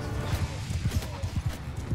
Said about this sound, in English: You got so many horses.